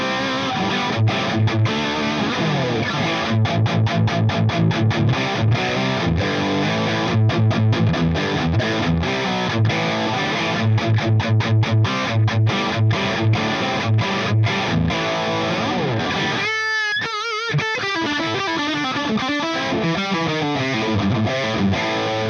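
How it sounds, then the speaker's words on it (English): A distorted electric guitar played through a Bugera amplifier with channels in cascade for an aggressive Plexi-style tone, thick crunchy chords and rhythmic chugging riffs, a brief pause and bend midway, then more driven playing, loud and alone. "you can dial more aggressive and distorted tones than a normal Plexi amplifier"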